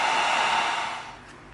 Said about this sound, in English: Now hit the back of our pieces with some heat real quick just to tighten up the surface for when we glue.